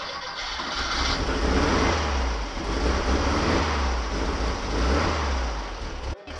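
A small carburetted engine, freshly fuelled with the choke on, fires up and keeps running in a steady loud drone that dips and swells slightly for several seconds, then cuts out briefly near the end.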